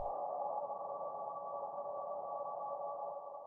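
A sustained synthetic riser in a music track holds steady for several seconds, a smooth droning swell that cuts off abruptly at the end.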